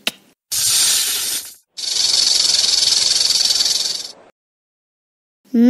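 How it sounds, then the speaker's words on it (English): A snake hissing in two long, steady bursts of airy noise, the first short and the second running about two seconds, both loud and close, with a brief tail of another sound right at the end. "Snake."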